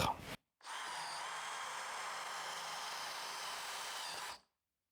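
A DeWalt DCD708 18V cordless drill bores a 13 mm hole, whirring loudly and steadily for about four seconds before stopping abruptly, with a short sound just before it starts.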